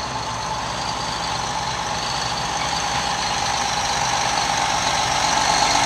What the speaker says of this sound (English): The Mack truck that's pulling the trailer is also in the sale.